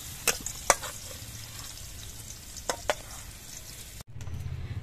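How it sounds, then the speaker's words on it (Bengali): Raisins fry in hot oil with a steady close sizzle, broken by a few sharp clicks of a spoon stirring against the pan, then a brief cut and a renewed, louder sizzle. "এবার তেলের মধ্যে একটুখানি নাড়াচাড়া করলে কিশমিশ গুলো ভাজা হয়ে যাবে।"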